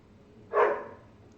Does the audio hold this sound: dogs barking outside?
yes